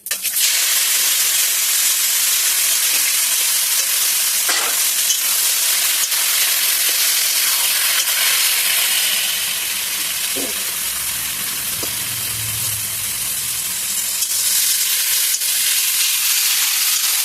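Pieces of taro, whole cumin seeds and dried red chilli fry in hot oil in a pan, a loud, continuous close-up sizzle and hiss that barely eases as the frying goes on.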